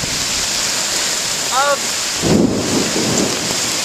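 Strong hurricane wind and rain roar steadily at a lakeside in Kenosha, with a loud rumbling gust swelling midway and a brief voice-like tone rising over the storm.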